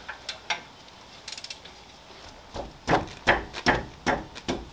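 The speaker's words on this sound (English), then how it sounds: "Let's try it with a 3/8 ratchet." A 3/8-inch ratchet working on a rear brake caliper bolt of a 2015 Jeep Grand Cherokee: a few quick light clicks, then a series of louder, sharper ratcheting bursts at an uneven pace, close up with no talk.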